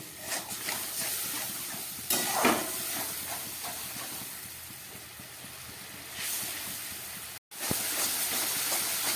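Bengali fish curry masala with added water bubbles and hisses over a high gas flame, a continuous loud sizzle with brief surges and a short drop near the end.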